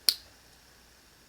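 The switch of a cheap tactical-look flashlight clicking on: a single sharp, close click followed by quiet.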